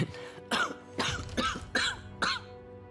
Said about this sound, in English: She chuckles herself into another coughing fit.